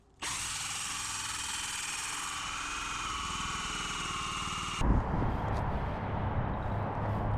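A power drill bores a hole through a roof, a loud, steady high whine running for several seconds before cutting off into rougher rumbling noise.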